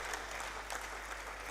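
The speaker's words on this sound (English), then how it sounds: "Please put your hands together for Professor E.O. Fatu Roti, who is joining us virtually." Audience applause at a renewable energy conference for a professor joining remotely, a soft, even patter of clapping from a modest crowd, fairly distant and steady throughout.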